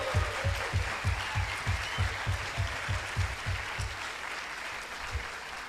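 Applause from an audience at a revolutionary party meeting, a dense sustained patter of many hands with steady rhythmic low thumps, fairly close and filling the room, fading slightly toward the end.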